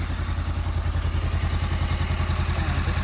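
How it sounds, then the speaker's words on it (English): A Honda CB500F motorcycle engine runs close by, loud and steady, with a low throbbing pulse and mechanical clatter throughout the short stretch and no talking. "We're going to start the bike again."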